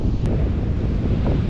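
Ocean waves roll onto a white-sand beach at Brighton on the coast of Otago, South Island, as a steady, loud wash of surf mixed with heavy wind rumble against the microphone.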